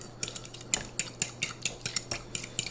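Brown sugar and butter mashed together with a fork in a bowl, a brisk rhythmic run of bright metallic clinks and scrapes, about three or four per second, close and clear with no talk.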